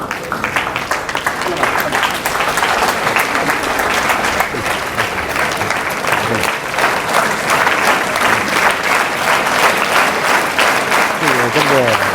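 Audience clapping at a college Q&A event at Alva's College, Moodbidri, continuous dense applause throughout, loud and near, with some voices and a faint tonal sound underneath.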